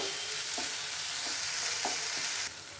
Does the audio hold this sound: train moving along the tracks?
no